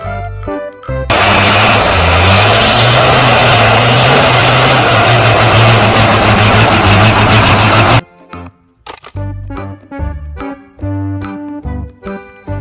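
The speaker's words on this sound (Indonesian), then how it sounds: "Mobil dump truck." A toy dump truck starts up and rumbles in a heavy, idling engine drone for about seven seconds, with light music before and after it.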